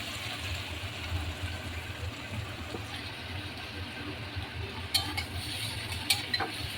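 Noodles and fried vegetables are stirred together in a large wok over a high flame, with a steady low sizzle and soft scraping throughout and a few sharper clinks of the utensil near the end.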